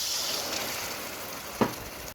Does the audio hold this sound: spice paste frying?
yes